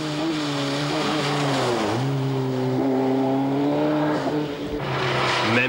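A Ford Sierra Cosworth rally car at speed on a mountain stage of the 1991 Rallye Grasse Alpin, its engine roaring loud and close, rising and falling through gear changes with brief tyre squeal, no talk.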